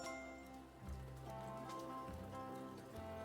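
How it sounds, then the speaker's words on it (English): Steady rain falls outdoors, a continuous even patter that runs unbroken throughout and sits fairly close, with no voices over it. "Is it raining again?"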